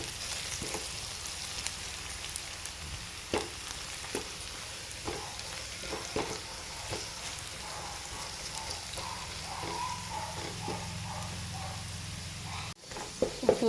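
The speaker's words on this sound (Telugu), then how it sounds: "అలా లైట్గా ఫ్రై చేసుకుంటూ ఉండాలి." Potatoes fry lightly in a pan with a steady, moderate sizzle and crackle that runs continuously. Occasional soft stirring clicks and scrapes rise above it, and a sharp clatter comes near the end.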